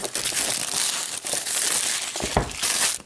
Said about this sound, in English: Peel the plastic here.